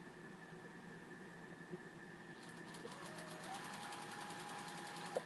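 A sewing machine stitches a dart on a memory bear: a faint, steady motor hum whose fast needle chatter starts about halfway through and runs evenly to the end, with no talking.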